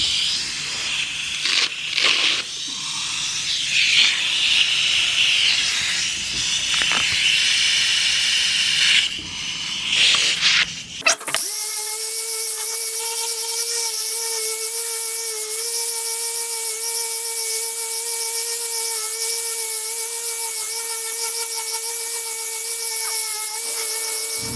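Scratchy sanding of a 1987 GT Pro Freestyle Tour BMX wheel with 400 grit sandpaper, hissing rubs for the first ten seconds, then a steady whining spin with strong tones as the wheel turns, loud and close.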